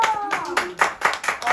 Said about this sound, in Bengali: হাততালি প্লিজ